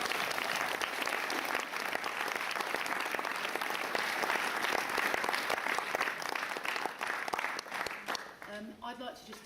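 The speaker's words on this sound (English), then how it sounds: "I'd really like us to still give her a round of applause" Sustained, dense audience applause at a celebration evening fills the room steadily for several seconds, then a voice begins speaking as the clapping fades.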